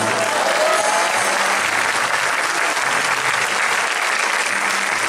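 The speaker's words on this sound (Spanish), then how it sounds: "un aplauso para Mario, por favor" An audience at a posthumous tribute gathering breaks into loud, sustained applause, a thick unbroken roar of many hands clapping throughout.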